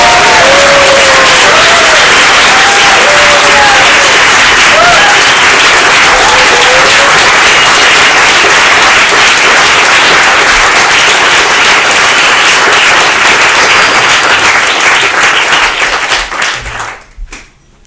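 A large audience gives loud, sustained applause to welcome a speaker at a gathering, dense clapping with some cheers that holds steady for about fifteen seconds and then fades out.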